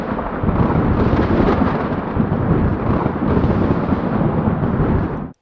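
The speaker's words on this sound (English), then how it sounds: "you'd be going to bed and have to sleep with this going on." Thunderstorm with frequent lightning strikes, a loud, continuous close rumble of thunder rolling without a break, heavy and dense throughout before cutting off abruptly.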